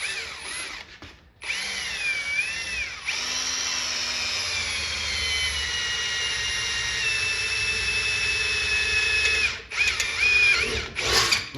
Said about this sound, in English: Okay, I'm going to drill a 3/16 hole.